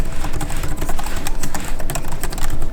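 Rapid, continuous typing on a MacBook Pro M4 keyboard, with dense soft key presses in close, loud succession and no pauses.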